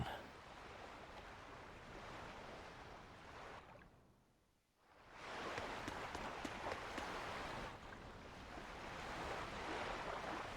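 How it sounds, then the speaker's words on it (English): Ocean waves roll and wash in the Tales of Berseria video game at sea, a steady broadband surf with wind, briefly dropping away midway before surging back in fuller swells. "we're safely on the rolling waves"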